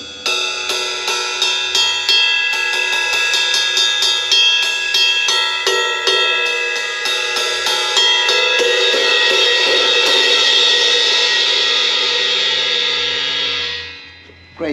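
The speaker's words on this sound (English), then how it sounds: "Great cymbal." A ride cymbal on a drum kit rings out in a steady run of rapid, evenly spaced strikes, bright and close, with a long shimmering wash that builds and then fades away near the end.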